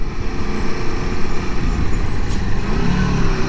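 A 2021 Aprilia Tuono motorcycle drops down into first gear while riding through city traffic, its engine a loud, continuous low rumble with heavy wind buffeting throughout.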